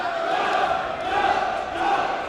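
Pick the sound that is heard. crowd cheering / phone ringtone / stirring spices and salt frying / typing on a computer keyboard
crowd cheering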